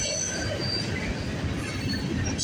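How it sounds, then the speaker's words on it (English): Train wheels squeal faintly against the rails as a train parks somewhere nearby at a rail junction, a thin high-pitched whine over a distant rumble. "Thought I heard a train parking somewhere, I think."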